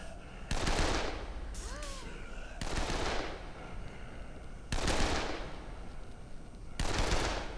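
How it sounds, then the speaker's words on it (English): Auto rifle gunfire in the video game Dead Island rattles out in four loud sustained bursts of rapid shots, separated by short pauses, with a voice briefly heard between bursts. "Yeah, got an auto rifle."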